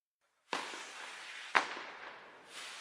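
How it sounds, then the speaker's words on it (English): Fireworks burst as a sound effect on a Twitch stream: two sharp cracking bangs about a second apart, each trailing into a crackling hiss, then a third softer swell, with no talking. "why have got random fireworks, Twitch?"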